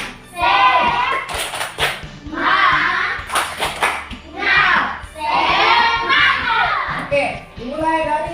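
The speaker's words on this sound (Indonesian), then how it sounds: "kita tepuk semangat dulu" A class of schoolchildren performs the 'tepuk semangat' spirit clap in a classroom, bursts of rhythmic group clapping mixed with loud children's chanting and voices throughout.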